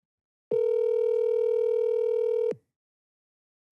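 A phone call tone sounds as one steady, loud electronic beep lasting about two seconds, then cuts to silence before another starts at the end; no one answers and no voices are heard.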